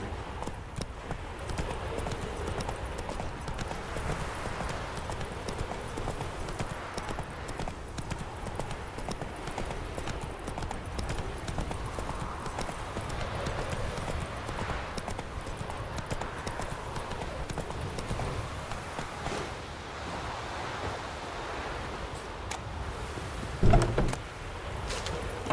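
Roach, a horse in The Witcher 3, trots along in a steady clip-clop rhythm of hooves that runs continuously at moderate loudness, with a brief louder thump near the end.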